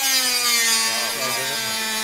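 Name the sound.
Dremel rotary tool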